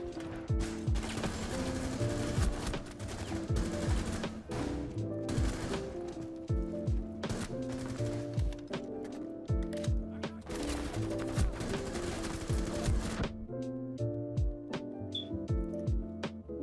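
Rapid automatic gunfire in Rainbow Six Siege, long rattling bursts of shots under a dense layer of game music and noise, with a short break before another volley near the end.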